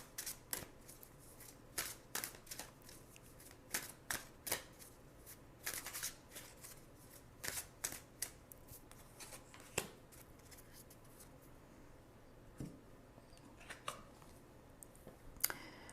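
Tarot cards being shuffled during a reading, a quiet series of crisp riffling bursts and soft flicks repeating irregularly, close and faint, with no talking.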